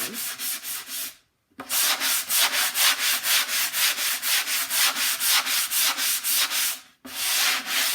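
Rhythmic back-and-forth scraping of sandpaper by hand on painted wood, brisk even strokes close up, pausing briefly twice before resuming.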